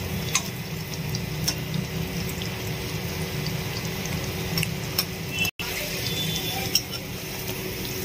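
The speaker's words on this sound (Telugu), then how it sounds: "మంచిగా ఫ్రై చేసుకోవాలి. ఒక 5 మినిట్స్లో ఫ్రై అయిపోతుంది" Bitter gourd (kakarakaya) pieces frying in a pan, a quiet continuous bubbling sizzle with occasional light ticks and clinks, steady and close throughout.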